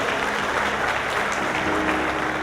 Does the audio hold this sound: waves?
no